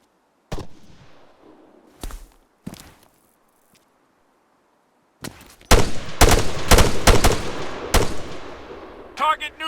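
Gunfire in the military game Arma 3: sharp, loud shots, a few isolated cracks at first and then a rapid cluster of closely spaced bursts, with quiet gaps in between.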